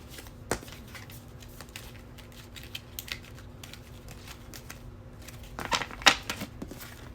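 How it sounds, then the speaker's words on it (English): Soft, quiet handling of tarot cards with scattered flicks and rustles, building to a brief burst of riffling near the end; no voices. "So I'm just going to shuffle."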